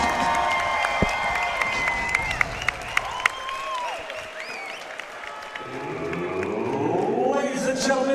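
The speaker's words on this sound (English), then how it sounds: "Give both of these warriors a round of applause." A casino crowd at a fight night applauds the two fighters after the bout, sustained clapping and cheering filling the room, with talk mixed in throughout.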